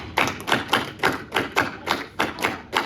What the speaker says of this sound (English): it sounds like a samba